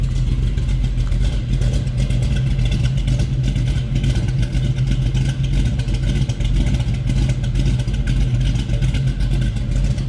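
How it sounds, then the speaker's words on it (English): A 1969 AMC AMX engine idles steadily up close, a low lumpy rumble from a mild performance cam with a rhythmic throb and light mechanical clatter throughout. "Boy, nice sounding engine."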